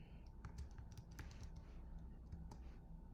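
A computer keyboard is typed on in short bursts of soft, quick clicks, faint and close, over a steady low background hum while making a card with a Cricut machine.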